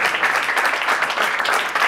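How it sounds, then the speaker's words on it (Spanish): A stand-up comedy crowd claps in a brief, even wave of applause, close and fairly loud, with a faint murmur of voices mixed into the clapping. "Podéis aplaudir"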